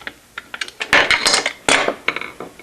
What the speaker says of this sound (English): Then remove the 4 screws that attach the plastic to the aluminum.